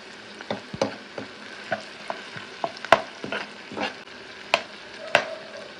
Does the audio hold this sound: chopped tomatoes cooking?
yes